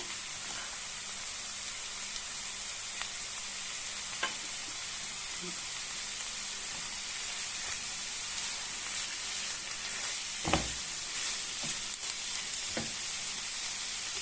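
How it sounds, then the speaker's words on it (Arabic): Kefta sizzles and fries in butter in a pan, a steady close hiss with occasional stirring taps and small pops throughout. "نحاول نزيدو واحد شويه ديال الزبده باش حتى الكفته ديالنا تشحر مزيان."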